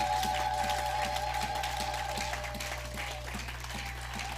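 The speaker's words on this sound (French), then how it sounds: "Est-ce qu'on peut donner une main d'acclamation pour la gloire de notre Dieu?" A church congregation claps during a French-language sermon on prayer. The applause is steady and moderate and sits over a constant low electrical hum, with a sustained tone in the background.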